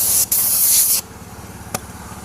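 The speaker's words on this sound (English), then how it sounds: "Get this dust blown off of here." Compressed air blasts sanding dust off a curb-rashed Cadillac wheel during refinishing, a loud steady hiss lasting about a second after a brief burst, followed by a short sharp puff.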